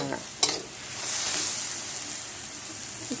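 Silkworm pupae roast dry in a hot pan, giving a steady close hiss and sizzle with a sharp stirring scrape near the start and a faint clink at the end.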